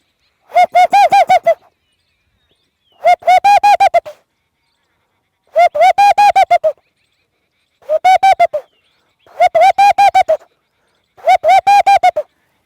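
A small bird known locally as chinna belagada calls in six separate bursts of rapid, repeated hooting notes, loud and close, with silent gaps between each series.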